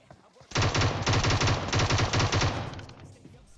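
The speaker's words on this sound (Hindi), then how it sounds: "अब मैं प्री फायर देता हूँ यार" Rapid bursts of M762 rifle fire in PUBG Mobile, loud and close, several quick strings of shots over about two seconds before fading out.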